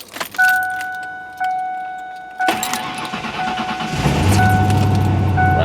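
An older Ford Explorer with a 5.0 liter V8 and 400,000 miles starts from cold: chime tones and keys, a short crank, then the engine catches and settles into a loud, steady idle.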